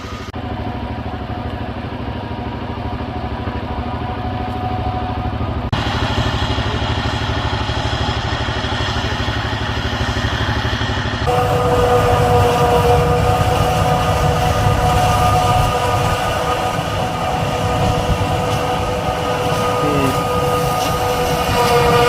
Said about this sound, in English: And the chopper there's got that big head that just takes everything in.